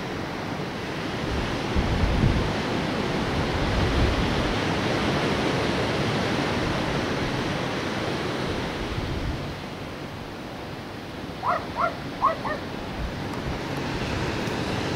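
Indian Ocean surf as a steady, loud broadband wash of waves with wind buffeting the microphone, easing slightly later as a few faint bird chirps come through.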